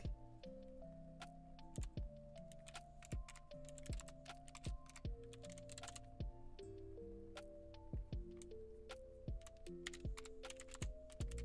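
Steady keyboard typing with quick irregular clicks throughout, heard close up over a sustained musical tone in the background.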